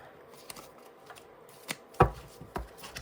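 A deck of cards being shuffled up close, a few soft riffling slaps with a sharp burst near the end, in a quiet room with no voices.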